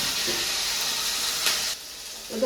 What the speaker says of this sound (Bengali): দুটো তো ভেজে নিলাম, আবার দুটো দিয়েছি তেলে